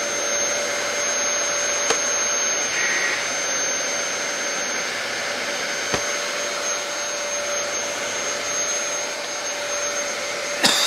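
A Dyson DC33 vacuum cleaner runs steadily from start to finish, a loud constant whine and airy rush broken only by a few brief clicks.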